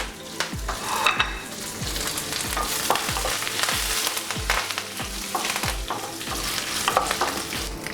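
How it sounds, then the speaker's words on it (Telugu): Mustard seeds, cumin, urad dal, dried red chillies and curry leaves sizzle in hot oil for a beetroot coconut fry, a steady close crackle punctuated by regular scrapes and clinks of a spoon stirring in the pan. "ఆవాలు, జీలకర్ర లైట్గా ఫ్రై చేసుకొని ఇప్పుడు మనం ఎండుమిరపకాయలు,"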